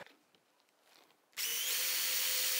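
A power drill starts abruptly partway through and runs steadily at high speed boring pilot holes in plywood, a loud continuous whine with grinding texture, after a quiet stretch.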